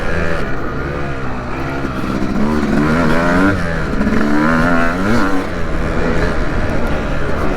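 A 2025 Yamaha YZ250X two-stroke dirt bike engine revs up and down on a trail ride, loud and close, with rising and falling pitch through the midrange under wind and riding noise.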